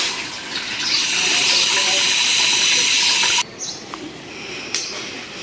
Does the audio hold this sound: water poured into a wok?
yes